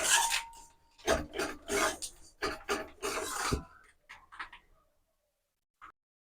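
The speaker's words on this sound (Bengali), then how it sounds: "গুঁড়ো দুধটা দিয়ে সুজির সাথে ভালো করে মিশিয়ে নেব।" Dry semolina and powdered milk being stirred together in a bowl, giving close, scratchy rubbing and scraping strokes in uneven bursts that fade out, followed by one faint knock.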